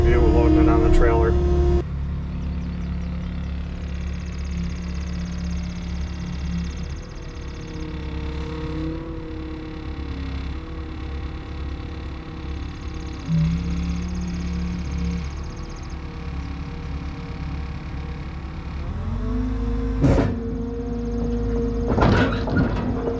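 A Bobcat T76 track loader is driven onto a trailer, its diesel engine droning steadily with pitch shifts and clanks. The engine rises into heavier revving and banging near the end, and faint speech sits under the machine noise.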